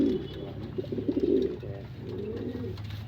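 Low, throaty pigeon coos repeat in soft rolling bursts, fairly close, with no talking.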